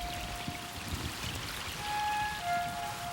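Rainy-season rain falling at the Maya site of Copan, a steady close patter and pouring rush with a faint whistling tone threaded through it, no voices.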